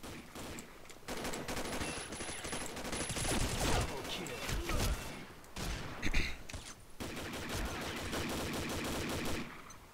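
Sustained video game gunfire from a FAMAS G2 rifle and an M249 Para machine gun, dense rapid bursts filling the scene with loud overlapping shots and brief pauses between volleys.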